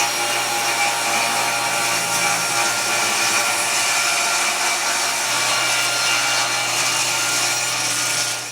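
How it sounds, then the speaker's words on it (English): Table saw with a sled trimming the ends of a maple board, a steady loud whirring roar of blade and cut running unbroken for over eight seconds. "Then I'll use my table saw sled and we'll trim off the ends"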